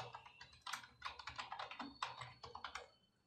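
Rapid keystrokes on a computer keyboard as a domain name is entered, a quick irregular clatter of several bursts of clicks, close and fairly quiet, with no talking.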